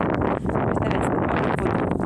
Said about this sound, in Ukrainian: бо вже починається вже вітер трішки